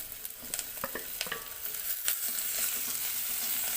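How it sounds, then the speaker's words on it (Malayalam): Curry leaves, other curry ingredients and chopped tomato sauté in a pan for a fish curry, a close crackling sizzle with several sharp spatula scrapes early on that settles into a steady hiss. "എല്ലാം കൂടി ഇട്ടിട്ട് നല്ലോണം വാട്ടിയെടുക്കാണ്"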